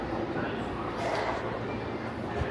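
A New York City subway car hums and rumbles at speed near 96th Street station, a steady mechanical drone with rattling undertones, fairly close and even throughout.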